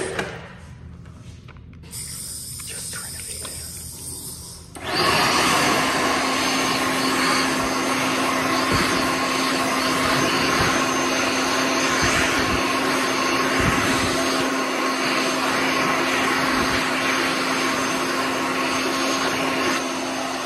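A World Dryer SLIMDri hand dryer in a renovated Lowe's restroom, from December 2021. After a short stretch of quieter room noise it starts up with a steady, loud motor whine and rushing air that runs on unbroken.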